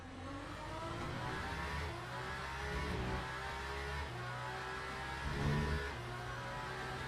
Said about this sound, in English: Let's listen to the downshifts.